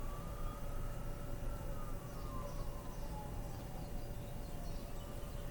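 An ambulance siren wails steadily in the distance, its pitch rising and falling over a constant rumble of traffic.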